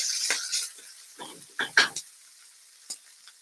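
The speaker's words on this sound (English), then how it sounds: "And give it a good mix. So we get it all coated with the olive oil." Zucchini noodles are tossed with olive oil in a pan, giving a soft sizzle with scattered stirring scrapes and utensil clicks against the pan, fairly close and moderate in level.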